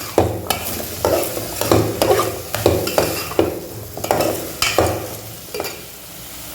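Curry leaves and green chillies sauté in hot oil for a cabbage and mixed-vegetable poriyal, a steady close sizzle broken by repeated scraping stirs of a spoon at a roughly regular beat.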